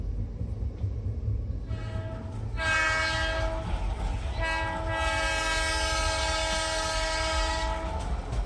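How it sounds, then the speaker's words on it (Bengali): Sound effect of a train coming to a stop, a steady rolling rumble joined by a long loud multi-tone horn blast that sounds twice in close succession over the running noise. "এক সময় ট্রেনটা থেমে গেল"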